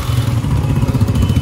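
A Benelli motorcycle engine rumbles steadily at close range in slow, jammed traffic, a continuous low throbbing with no voices over it.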